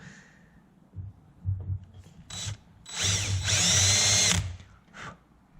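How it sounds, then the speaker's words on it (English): A power drill bores out a rivet in an aircraft wing spar for a CriCri homebuilt plane, with short bursts of whining drilling, one longer sustained run in the middle, and light handling knocks in between. "just make sure you're being real careful and drilling down the very center of that rivet"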